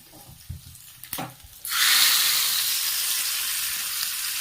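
A hot tempering of fried drumstick leaves and curry leaves poured into dal: a few light knocks, then a sudden loud, steady sizzle and hiss that continues to the end.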